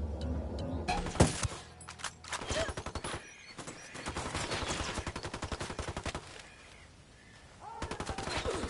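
Video game shootout gunfire: rapid machine-gun bursts and sharp single shots rattle in dense, rhythmic volleys, with a loud crack early on and a brief lull before firing resumes.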